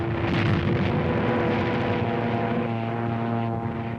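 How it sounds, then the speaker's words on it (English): A German Stuka dive bomber attacks near the front lines, a loud, steady propeller-engine drone with a sustained rising whine, heard close and unbroken in a 1943 wartime newsreel recording. "There's a Nazi dive bomber letting one go."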